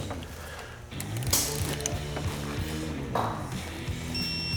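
A torque wrench ratchets as it tightens the seal head into a FOX shock during assembly, with quick repeated clicks over a steady workshop hum, close by, with a brief metallic ping near the end.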